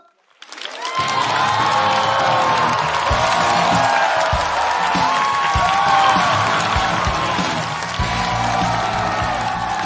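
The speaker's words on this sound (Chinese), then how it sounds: "掌声有请崔医生。" A stand-up comedy show audience bursts into sustained, loud applause and cheering that swells quickly and holds steady with scattered whoops, welcoming a doctor to the stage.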